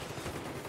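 Burst of automatic gunfire in Battlefield 3 multiplayer on PC, a short dense rattle of rapid shots that fills the whole moment at moderate loudness, with no talk over it.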